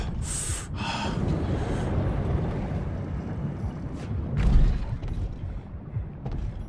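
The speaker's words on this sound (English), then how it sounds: "You're stressed. Panicking. Breathing hard." A stressed, panicking diver in the underwater game Narcosis breathing hard: sharp, hissing inhales and gasps at the start, then heavy, ragged breaths over a low, muffled rumble with faint mechanical creaks and no voices.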